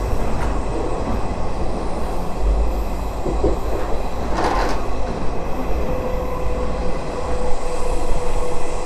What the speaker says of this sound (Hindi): जो जा रहा है ये मेट्रो लाइन है।